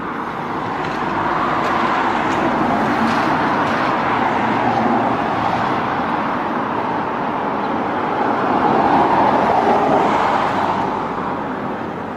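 Busy road traffic in the UK, a loud, continuous roar of passing cars and heavier vehicles that swells and fades as vehicles go by, with no speech.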